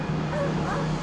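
A dog in an Aladdin cartoon series yips and whimpers in short, high barks, mixed under a dense, noisy background of voices and music.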